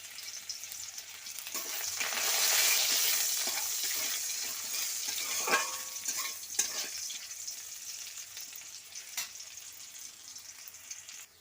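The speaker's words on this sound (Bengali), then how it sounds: "দিয়ে দিচ্ছি পেঁয়াজ কুচি পেঁয়াজটা একটু ভেজে নেবো লাল লাল করে" Chopped onion fries in hot oil with five-spice, a loud, close, steady sizzle that swells early and then settles, broken by occasional clacks and scrapes of stirring.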